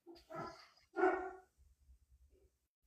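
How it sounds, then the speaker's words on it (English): A dog barks a few times somewhere in the house, two strong barks followed by fainter yips, fairly quiet and away from the microphone during a talk show call. "Hear a dog or something somewhere. It's my dog."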